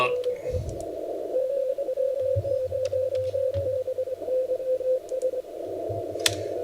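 An amateur radio signal from a station in Wales on the 15-meter band at sunrise, received as a steady tone over band hiss with faint crackles and a fading, distorted voice.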